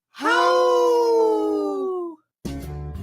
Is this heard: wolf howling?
yes